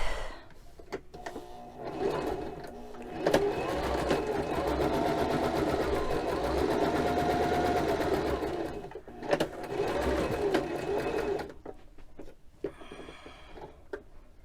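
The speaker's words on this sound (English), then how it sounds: "I'm going to sew another line right next to it." A sewing machine with its tension set around 4 runs a straight line of stitches, a fast steady mechanical whir for several seconds, stopping briefly, then running again before falling quiet amid small handling clicks.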